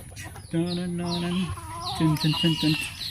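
Chickens on a pig farm cluck and squawk close by in a run of short, loud calls, one drawn-out cackle followed by quick choppy clucks, with faint background chatter.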